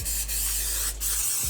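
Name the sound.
cooking spray sprayed onto a cake pan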